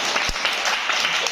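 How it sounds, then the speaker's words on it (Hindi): Children in a classroom clap together after reciting a Hindi poem about the months, a dense, continuous patter of many small hands with no talking. "बहुत बढ़िया, तालियां"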